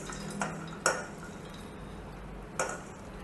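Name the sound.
nuts and fruit transferred into a frying pan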